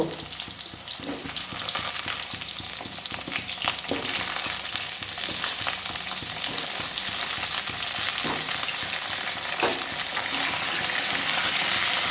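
Chunks of taro (kochu) frying in oil in a pan, a steady close sizzle with faint stirring scrapes, no talk.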